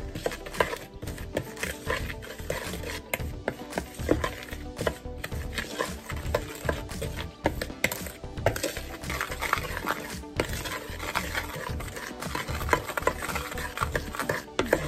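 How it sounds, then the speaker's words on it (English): Apple crumble topping with cinnamon stirred in a bowl, giving a steady run of close scraping and clicking from the utensil with no pauses over the whole stretch. "Okay, so I'm going to mix this up first."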